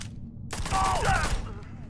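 Rapid SMG gunfire in the video game Starfield, a dense burst of shots that starts abruptly and runs for about a second at close range, with a voice faintly underneath.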